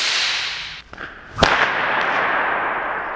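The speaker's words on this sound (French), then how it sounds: "ce bruit venait du claquement de l'extrémité du fouet sur le sol ou sur une surface" A whip snaps once with a sharp, loud crack, set against a hissing, rushing background before and after, with no voices.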